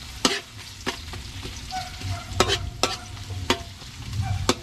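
Garlic, onion and ginger sizzle in a pan as the base for ginataang alimango (crab in coconut milk). Several sharp spatula scrapes and stirs strike over a steady low frying hiss, with no talking.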